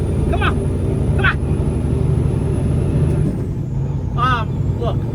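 A heavy truck's engine drones steadily as it labours uphill after a downshift, with a constant low rumble and a high whine, while someone speaks briefly over it.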